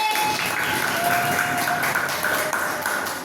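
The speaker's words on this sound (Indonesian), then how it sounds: "Tepuk tangan untuk kelas 9B." Classroom applause for class 9B, steady close clapping from a group of students with a few faint ringing tones over it.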